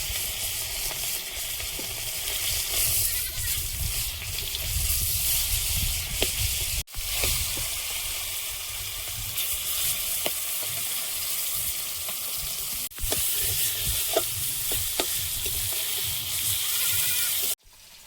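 Large fish pieces frying in a little oil with turmeric, a dense, loud, steady crackling sizzle that runs throughout, with a couple of brief sharp knocks.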